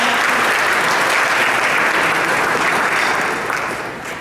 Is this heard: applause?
yes